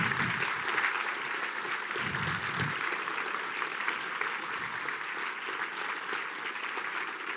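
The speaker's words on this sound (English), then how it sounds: "Let's give you a big round of applause and a big cheers" Steady applause from a crowd at the F1 in Schools UK National Finals secondary awards ceremony, a dense, even wash of clapping that continues without pause, moderately distant.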